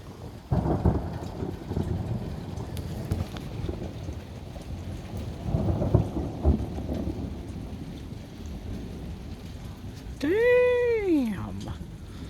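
Thunder rolls as low, broad rumbles through a thunderstorm with steady rain, swelling twice in the first half; near the end a cat's meow cuts in over the storm.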